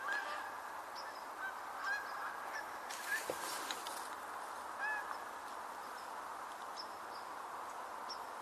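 Geese honk in scattered calls high in the air outdoors on a late-October nature tour, faint and distant over a steady hiss of background ambience.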